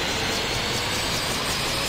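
A helicopter flies in a flight-school video game, giving a loud, steady engine roar with a faint rhythmic rotor pulsing throughout.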